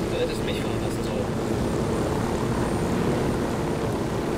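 Helicopter in the open-world game Ghost Recon Wildlands, a steady, dense rotor and engine drone that stays loud and unbroken throughout, close up with no pauses.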